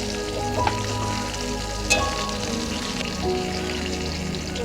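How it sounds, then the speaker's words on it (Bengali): Pieces of rohu fish sizzle in hot oil in a pan, browning to a reddish crisp, a steady close crackle with a couple of sharper pops and no talking. "দেখো সব লাল লাল করে ভেজে নিয়েছি মাছগুলো"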